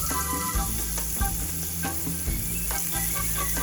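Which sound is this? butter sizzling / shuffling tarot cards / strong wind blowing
butter sizzling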